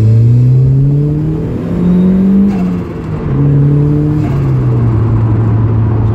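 A turbocharged Mazda MX5 drives and accelerates, its engine droning loud and close from inside the car, pitch climbing through gears with a dip and a smooth shift before pulling steadily again.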